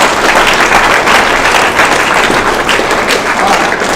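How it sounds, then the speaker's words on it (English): Crowd at a varsity and JV high school football banquet gives a loud, dense round of applause, continuous clapping filling all four seconds with no voices on top. "So one more round of applause."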